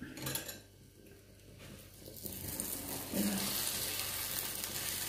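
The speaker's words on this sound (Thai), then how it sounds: "ทอดไข่เฮา" Beaten eggs fry in a hot pan for a Thai-style omelette, giving a steady close sizzle with a few soft clinks early on; the hiss swells louder and denser about halfway through and holds to the end, with no talking.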